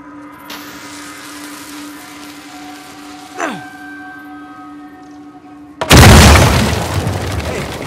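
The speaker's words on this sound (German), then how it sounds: "Hoffentlich ist das in den Explosionen untergegangen." A dynamite explosion in the video game Uncharted 4 erupts as a sudden loud boom with a long rumbling tail, following a quieter stretch of steady tonal game ambience and a brief whoosh.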